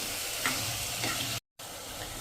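Green pigeon peas and sugar being stirred in a hot frying pan, a continuous sizzle with soft scraping strokes and a brief dropout partway through.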